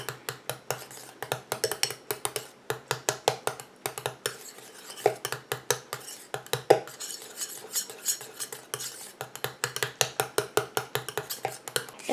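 Stirring a pineapple anti-cellulite cream with grapefruit essential oil: a utensil scrapes and clinks against the bowl in a steady, quick rhythm of close, distinct strokes.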